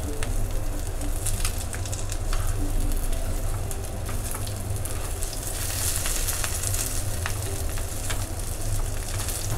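Stuffed green chillies pan-roasting in oil, a continuous soft sizzle and crackle over a low, steady rumble, heard close and without voices.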